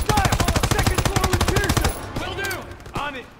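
Rapid, loud machine gun fire in the World War II shooter Call of Duty WW2, a fast steady burst that stops midway, followed by shouting voices and scattered shots.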